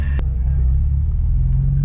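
A naturally aspirated Nissan 370Z engine drones with a heavy, steady low rumble from inside the car, holding a sustained pull with a faint click near the start.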